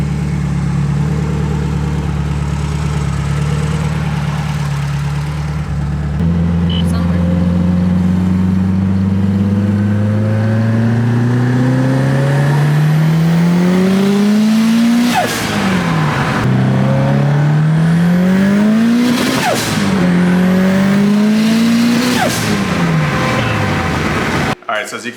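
A 700+ horsepower Subaru STI engine roars loud and close through repeated gear pulls on a test run, rising harmonics climbing steeply then dropping at each shift, continuous and dominant throughout.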